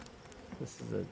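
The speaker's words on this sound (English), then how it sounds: "tons of bees in there" Honey bees buzz inside a hive, a faint hum with a few nearer buzzing swells and a brief voice.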